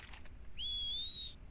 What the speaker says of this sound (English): No, definitely that's a whistle.